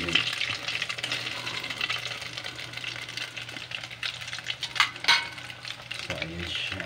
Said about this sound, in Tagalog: baka madurog ang ating niluluto.